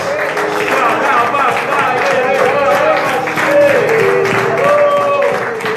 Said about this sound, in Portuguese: Enquanto você aplaude, abre os seus lábios para exaltá-lo nessa noite.